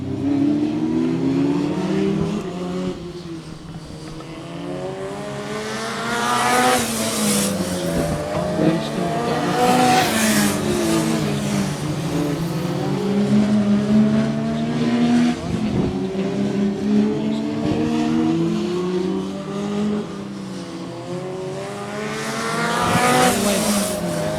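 Race cars at Swaffham Raceway accelerate hard with repeated rising engine sweeps, several loud passes and revving surges over about twenty seconds, with tire noise and a busy track background.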